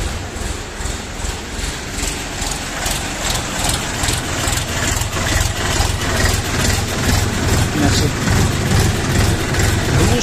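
A DTZ mini tractor engine runs steadily and close by, its diesel-like chugging a rhythmic, even clatter that holds for the whole stretch with no voices over it.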